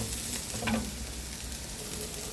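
Garlic fries in a pan with a soft, faint sizzle, a brief scrape of stirring near the start, quiet and close with no talk.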